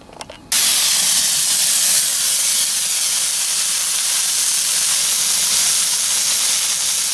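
Meat cooking over a camp stove at an outdoor bivouac, a loud, steady hiss that starts abruptly after a brief moment and holds unbroken to the end, with no talking.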